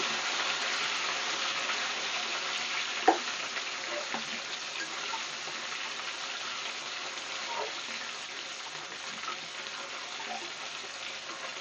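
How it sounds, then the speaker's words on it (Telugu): Tomato hitting golden-fried onions in a pan for fish curry, a steady loud sizzle throughout with a sharp splash near the start and occasional stirring scrapes. "ఇప్పుడైతే ఆనియన్ దోరగా వేగింది. టమాటో వేద్దాము."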